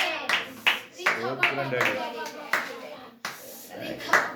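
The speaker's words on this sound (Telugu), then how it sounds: "అందరూ చప్పట్లు కొట్టి దేవుని మహిమపరుస్తాం" A church congregation claps in short, sharp bursts, a few loud claps standing out amid speech, with voices continuing between them.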